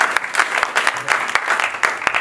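A church congregation at a 30th wedding anniversary celebration claps in bursts of uneven, sharp applause, moderately loud and fairly close, with faint voices in the background.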